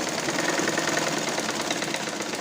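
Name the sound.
sewing machine stitching the bra waistband end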